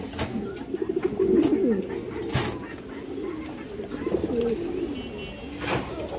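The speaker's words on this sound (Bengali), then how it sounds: "বড় সাইজের কালদম মাদি কবুতর, ইন্ডিয়ান হাইফ্লাই কালদম" Large female Kaldom pigeons, an Indian high-flyer breed, coo in a series of low, soft, throaty phrases, near and moderately loud, with some faint background bird noise.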